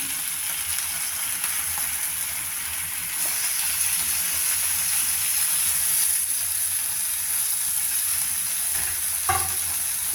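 Marinated chicken leg pieces fry in a pan for a potato chicken curry, giving a steady close sizzle and hiss with a brief stirring clatter near the end.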